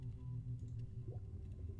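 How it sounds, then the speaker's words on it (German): Dolphins in the video game Chaos auf Deponia give faint, squeaky rising chirps over a low, steady ambient hum, with nobody speaking. "Oh, die Delfine."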